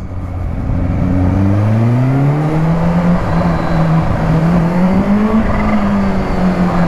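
Kawasaki Ninja H2 motorcycle accelerating hard, a loud continuous engine tone that climbs steadily in pitch as it pulls through the revs, heard close and alone without talk.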